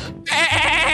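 A goat in the video game Garry's Mod lets out a single loud, wavering bleat that fills the short moment.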